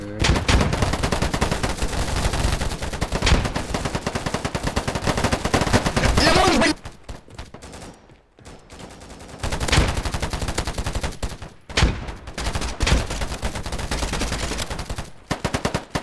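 Rapid, loud automatic gunfire rattles through a video game shootout in long sustained bursts, breaks off briefly, then resumes with more sporadic shots and short volleys.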